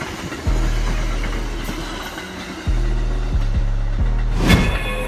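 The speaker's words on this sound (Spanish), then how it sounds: "Los rieles hacen vibrar el bastidor y los bogies, amplificando el sonido del tren." An Amtrak P42DC diesel locomotive train rolls on rails, with a loud steady low rumble and rhythmic wheel clicks as cars pass over rail joints, the frame and bogies vibrating up close.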